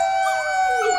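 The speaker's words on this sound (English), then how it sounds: ""Oh!" howled the wolf." A wolf's drawn-out howl in a children's telling of Little Red Riding Hood, a single sustained wavering tone that rises and bends, loud and close, with no talking over it.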